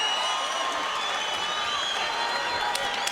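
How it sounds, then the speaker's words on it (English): A fight crowd at a WSOF 8 mixed martial arts event roars through the final seconds of a bout, a sustained wash of cheering, whoops and scattered clapping, loud and continuous. "Listen to the crowd in the final seconds"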